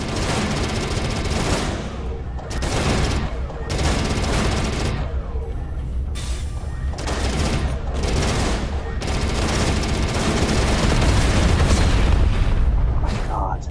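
Gunfire in a video game, with dense bursts of automatic shots and heavy booms coming in rapid clusters, loud and close, some stretches overlapping with talk.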